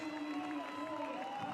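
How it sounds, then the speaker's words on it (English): Crowd cheering at an Invictus Games race, a steady dense roar of many voices that continues throughout without letting up. "Crowd loving this."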